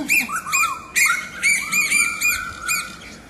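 Noisy birds calling close by in a rapid series of sharp, repeated downslurred chirps and squawks over about three seconds, loud and clear with no talk.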